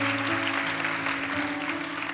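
A church congregation claps together at a Catholic preaching event, a full, continuous roar of applause from a large crowd with a held keyboard chord beneath it and no voices.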